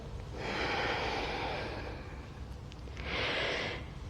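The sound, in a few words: exhaling breath during yoga sun salutation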